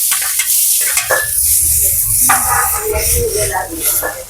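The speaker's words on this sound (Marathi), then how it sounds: "आता आपण ह्याच्यामध्ये टॅमॅटो सुद्धा टाकूया जे थोडेसे आपल्याला हलके भाजून घ्यायचे आहेत" Tomatoes sizzle loudly in a hot pan as they are lightly roasted and stirred for a Malvani chicken curry masala, giving a steady, close crackle with scraping stirs throughout.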